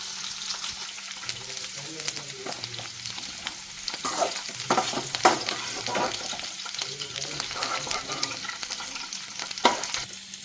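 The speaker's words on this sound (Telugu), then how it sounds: "కాలీఫ్లవర్ వేయించుకున్నాం కదా, ఇప్పుడు ఆలు వేయించేసుకుందాం." Cauliflower and potato pieces fry in hot oil in a pan, a steady close sizzle broken by repeated scraping stirs of a spatula throughout.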